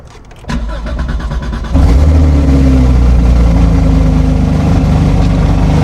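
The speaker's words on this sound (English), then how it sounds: "A little bit of exhaust leak." A 2021 Dodge Hellcat Redeye with an exhaust leak starts up with a cranking whir, then catches into a loud, rumbling idle that holds steady close by.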